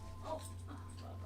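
A dog whimpering faintly indoors, a brief soft whine over a steady low electrical hum.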